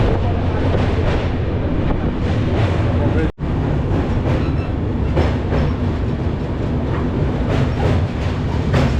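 A passenger train from Howrah toward Bhubaneswar rumbles across a bridge over the Hooghly river, a loud, steady roar with rhythmic clatter of the wheels heard from inside a carriage, and voices faintly mixed in.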